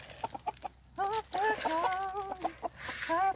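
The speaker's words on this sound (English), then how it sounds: "the boys start making these really happy chirpy noises like doop, doop, doop, doop, when they get their little baby boy energy" Backyard chickens cluck and chirp excitedly at feeding time, a close, lively run of short clucks and rising calls from a small flock.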